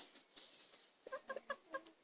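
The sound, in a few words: hen clucking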